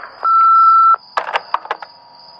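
An answering machine gives a single long steady electronic beep, loud and close, followed by a few short clicks and handling knocks.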